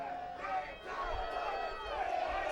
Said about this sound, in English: Crowd is arguing back and forth of whether Philly or Ironmen are going to win this